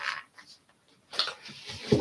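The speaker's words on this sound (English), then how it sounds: "Yes, that's the sound of me taking my shoes off" Soft rustling and scuffing, then a few muffled thuds and shuffles close by, like shoes being pulled off and dropped, with no talking.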